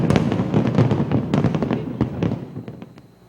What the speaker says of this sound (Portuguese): O show pirotécnico na praia de Copacabana durou cerca de 16 minutos, com a explosão de 24 toneladas de fogos de artifício